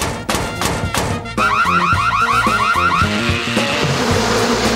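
A cartoon car alarm blares loudly in a rapid, warbling siren pattern after a few thumping impacts, the repeating electronic whoop dominating the scene with a low rumbling underneath.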